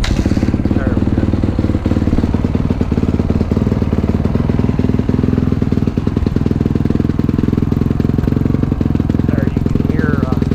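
Honda CRF450R dirt bike engine idling steadily and loudly close by, a continuous rough mechanical rumble with light clatter that holds for the full length without pause.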